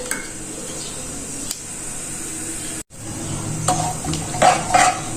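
Whole garam masala (cumin, cloves, black cardamom, cinnamon and black peppercorns) sizzles in hot oil for an aloo keema, a steady close frying hiss broken by a brief cut, then louder crackles and pops near the end.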